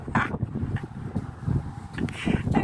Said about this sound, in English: Why is it wherever I go, it's always windy?